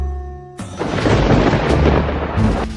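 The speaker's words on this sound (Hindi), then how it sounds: "स्वामी, ये बिना मौसम की गरजती हुई बारिश हमें क्या संकेत देती है?" Thunder during unseasonal rain rolls in suddenly after a short tonal passage, a loud, sustained rumbling crash lasting a couple of seconds.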